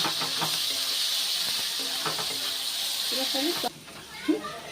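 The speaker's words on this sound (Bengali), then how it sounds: "পেঁয়াজটা একটু লাল লাল করে ভেজে নেব" A steady sizzling hiss of onions frying in hot oil, with a voice speaking over it; the sizzle drops sharply near the end.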